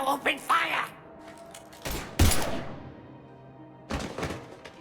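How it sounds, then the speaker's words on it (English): Gunfire in the video game Mass Effect 3, heard as a few heavy bursts of shots and thuds separated by quieter game ambience, with brief voices in places. "Now open fire!"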